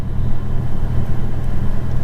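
A car rolls past in a large parking lot, a steady close engine rumble with a mild rise and fall and no voices.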